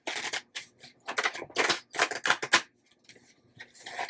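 Oracle cards from a Moonology Manifestation Oracle deck shuffled on a wobbly table, a series of crisp riffling bursts in irregular clusters with short pauses between them, close and fairly quiet.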